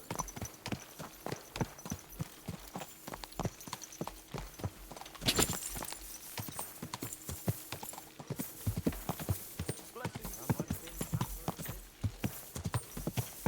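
A horse's hooves clip-clop in a steady, rhythmic trot while being ridden in Kingdom Come Deliverance 2, with close, even hoofbeats running throughout and a brief louder burst partway through.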